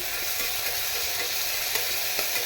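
Onions sizzle in a pan for rice upma, a steady close frying hiss broken by light scraping from stirring, with no talking.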